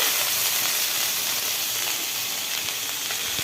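Chopped ginger and onion fry in hot oil, giving a close, steady sizzling hiss that holds evenly throughout with no voices.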